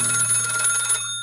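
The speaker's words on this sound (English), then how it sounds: "Was that my phone or yours?" A telephone rings with a bright, steady electronic trill that stops abruptly near the end, heard close and clear indoors with no talking.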